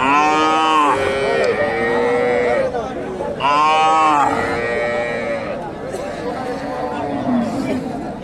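A native desi cow with a crossbred heifer calf at the Dakumara cattle market gives two loud, drawn-out moos close by, while people chatter around it throughout.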